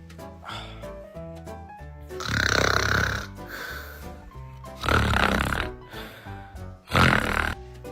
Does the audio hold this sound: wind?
no